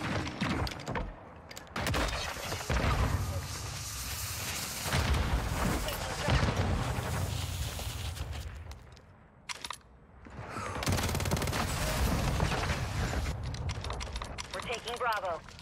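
Gunfire in Call of Duty MW3 crackles almost nonstop in loud bursts of automatic shots, briefly dropping away near the middle before resuming just as dense.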